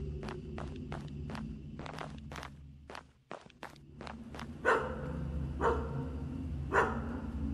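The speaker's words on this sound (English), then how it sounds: "Why am I hearing a dog?" A dog barks in the horror video game Graveyard Shift, a rapid series of sharp barks followed by a few spaced, louder, rougher barks over a steady low ambient hum.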